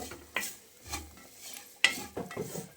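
Jackfruit seeds coated in chili and chaat masala are stirred as they fry in a pan for an evening snack, heard as soft intermittent scraping strokes with a light sizzle and one sharper clink, close and fairly quiet.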